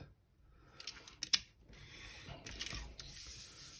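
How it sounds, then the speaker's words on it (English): A craft knife drawn along a ruler's straight edge to cut out card pieces, giving a few quiet scraping strokes with short sharp clicks, close and without talk. "I'm going to get my knife, and I'm going to get my ruler on my straight edge, and I'm going to cut out all of the elements."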